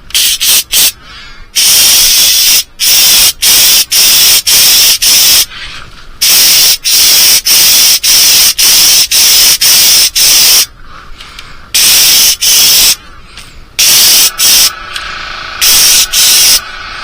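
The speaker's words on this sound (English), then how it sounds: "let's spray a thin coat of green across the top of them" An aerosol can sprays a thin coat of green paint onto fishing lures in loud, hissing bursts of one to two seconds each. The bursts are broken by short pauses and repeat many times close to the microphone, with no one speaking.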